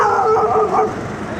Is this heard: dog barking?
yes